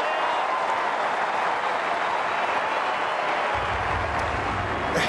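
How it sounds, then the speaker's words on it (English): Sweeping applause from a stadium crowd around the ground during the final quarter of an Australian rules football match between the Brisbane Lions and Western Bulldogs, a dense, steady roar of clapping that carries on throughout. "Sweeping applause around the ground."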